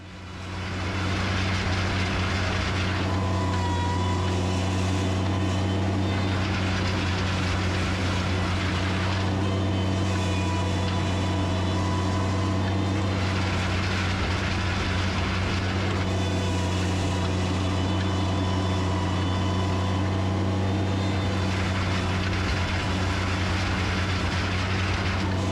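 An MT100 mini skid loader with a 72-inch grading bucket works gravel, its engine a steady, loud, close drone with a low hum that stays unbroken throughout.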